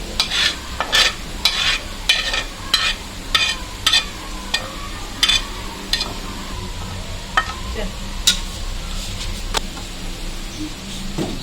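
Food fries in a pan in a Pakistani home kitchen, a soft steady sizzle under repeated sharp scraping and clinking strokes of a spoon against the pan.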